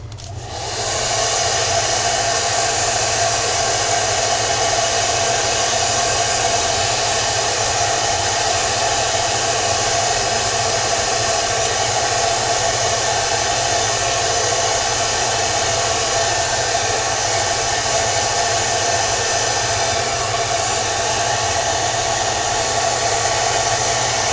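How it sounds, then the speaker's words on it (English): A hair dryer blows steadily and loudly for the whole stretch, a constant airy roar with a motor hum and no pauses. "I am going to give this just a blow with my blow dryer"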